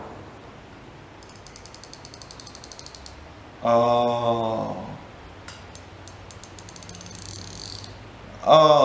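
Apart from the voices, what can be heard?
100-tooth ratchet wrench clicking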